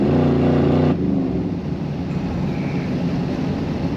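A 1959 Chevrolet Impala four-door flat top fitted with an LS engine, revved loudly up front and then settling into a steady, rumbling idle with throttle blips, close and alone.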